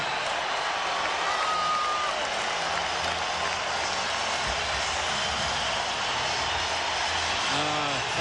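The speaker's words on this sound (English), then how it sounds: "Listen to this crowd." Arena crowd at a 1999 Lakers home game against the Blazers roaring loud and continuous, a dense unbroken wash of cheering with a commentator's voice briefly audible.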